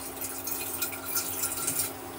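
Water poured into a pressure cooker, a brief continuous splashing trickle with bright bubbly spatter, close by and steady, with no voices.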